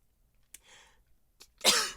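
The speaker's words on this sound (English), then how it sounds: "I have to sneeze." A single person's sneeze, a short intake then a loud, sharp burst near the end, preceded by a couple of faint sniffs in an otherwise quiet indoor room.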